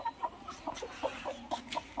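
A desi hen brooding peafowl chicks clucks repeatedly in quick, soft bursts nearby, a steady rhythmic series of low clucks with no talking.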